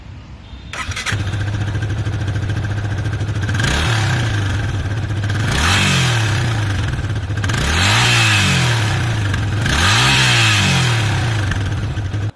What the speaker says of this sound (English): it also sounds amazing because it has been specially tuned to give out a sporty exhaust note